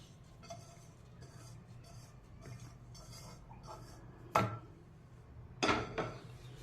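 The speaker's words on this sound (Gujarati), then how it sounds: "એમાં આ દાણા, સિંગદાણા, તલ અને વલિયારી હતી એ આપણે મિક્સ કરી દેવાનું. એની જોડે આ બેસન હતું ને એ પણ એડ કરી દેવાનું." A spoon stirs peanuts, sesame seeds, fennel seeds and gram flour together in a bowl, giving soft scraping rustles with a couple of sharper metallic clinks against the bowl.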